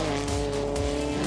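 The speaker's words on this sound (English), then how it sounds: "Huge lock up there for Uli Sanna under braking" Race car locking a wheel under heavy braking at Kyalami circuit, a loud continuous engine drone with a brief tire squeal rising over it, close and dense throughout.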